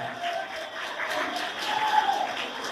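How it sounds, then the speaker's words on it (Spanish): A church congregation applauds during a Spanish-language sermon, a steady wash of many hands clapping that sounds fairly distant and even throughout, with a faint tone running beneath it. "Dele un aplauso fuerte al Señor."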